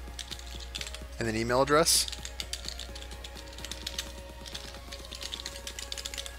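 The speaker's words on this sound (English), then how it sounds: "you need to type in your name" Steady clicking of a computer keyboard as a name and email address are entered into an email setup form, with a brief spoken phrase over the continuous taps.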